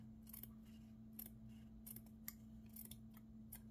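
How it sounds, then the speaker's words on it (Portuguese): Scissors snipping through a paper template for a tabletop scarecrow candy holder craft, several short crisp cuts in an irregular rhythm, close and fairly quiet over a steady low hum. "E vou cortar, ó."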